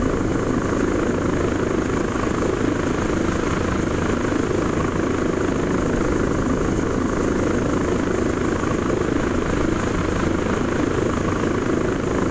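Aircraft flying in fog in the ARMA 3 video game, a steady, continuous rotor-like engine drone with a constant hum that stays level throughout, with no talking.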